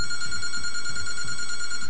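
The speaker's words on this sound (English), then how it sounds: "And the second time the phone is going off." Telephone bell ringing in the video game State of Decay, a steady electronic ring held continuously and fairly loud, with no other sound over it.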